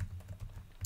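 Quiet, rapid keystrokes on a computer keyboard while Python code is typed, a short run of soft clicks ending in a slightly louder tap.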